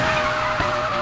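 Lamborghini Huracan sliding sideways in a racing video game, tires skidding and squealing continuously over a steady engine roar, loud and close throughout.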